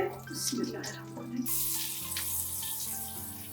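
Chopped garlic sizzles in butter and oil in a home kitchen pan, a steady frying hiss that swells partway through while a person talks over it.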